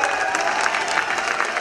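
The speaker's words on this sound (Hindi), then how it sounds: "जोरदार तालियां," At an evergreen music show in Akola, an audience keeps up a brief, steady burst of applause, a dense wash of clapping at moderate distance.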